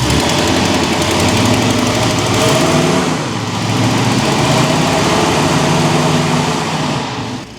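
A Ford big block 460 V8 fitted with vintage high-compression heads idles loud and close, a dense continuous rumble with a steady throbbing beat and no voices.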